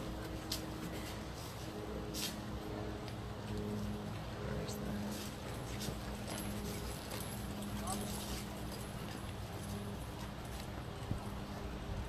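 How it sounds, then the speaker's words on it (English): Horses jogging in an arena at a live horse show, a steady background of hoof clatter mixed with crowd and arena noise, with people talking over it. "Beautiful horses."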